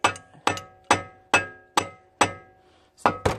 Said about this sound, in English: It's a rubber mallet.